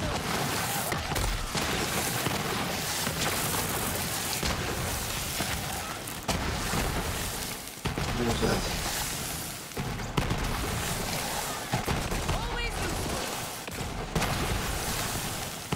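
Enemy launchers firing high-speed triple shots and tossing grenades in Borderlands 3 on Mayhem 11, a dense, unbroken barrage of bursts and booms with no pauses.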